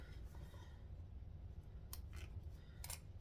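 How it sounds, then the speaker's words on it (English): Scissors trim thread tails while sewing a tote bag, giving a few quick, soft snips near the end against a quiet background. "Also going to trim off those tails because we don't want them."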